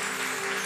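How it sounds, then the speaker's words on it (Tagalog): Church congregation applauding for the Lord during a worship service, a steady wash of clapping held at an even level through a brief moment with no talk over it. "Yung mas malakas natin ang palakpak para kay Lord."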